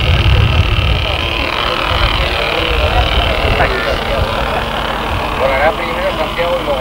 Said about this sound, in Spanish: Ya está puesto en marcha el motor del helicóptero.